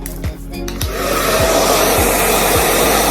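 Ionic ceramic tourmaline 2000 watt professional hair dryer with an AC motor, a loud, steady rushing blow of air at close range that swells after a brief start and runs alone, with faint periodic thumps.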